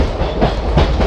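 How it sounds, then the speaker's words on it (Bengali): Patna to Puri special train running through Bihar, heard from inside a sleeper coach: loud, steady rumbling with rhythmic clicking of the wheels, close and continuous, with no voices. "আমাদের ট্রেন এখন রাজেন্দ্রনগর টার্মিনাস স্কিপ করছে"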